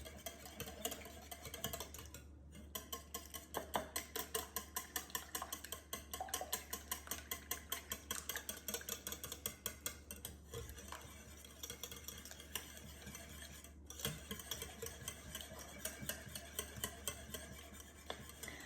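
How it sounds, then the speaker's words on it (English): A dozen eggs with whipping cream being mixed in a bowl, a fast rhythmic whisking tick that goes on steadily and quietly for many seconds with no talk. "We're just going to mix this until all the eggs are broken up and it's nice and creamy"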